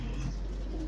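A pigeon kept by a pigeon fancier coos softly and close by in a brief low murmur, alone without talk.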